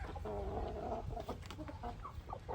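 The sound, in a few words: Nellore breed rooster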